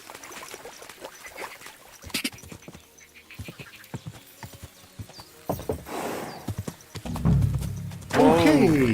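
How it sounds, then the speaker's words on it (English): A horse's hooves clip-clop in a steady rhythm in a video game, then the horse gives a loud whinny near the end. "I'll leave you be, little horsey."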